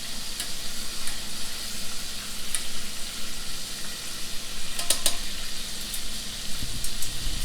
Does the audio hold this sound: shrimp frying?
yes